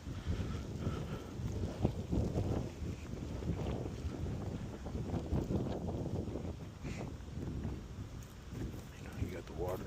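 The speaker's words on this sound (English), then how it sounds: "It's kind of windy over here" Wind along a downtown river walk near a lighthouse buffets the microphone with continuous low rumbling gusts, and a person speaks over it at times.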